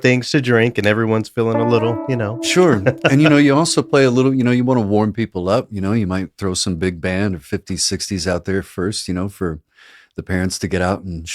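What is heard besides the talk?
No distinct noise like a dog, phone or traffic.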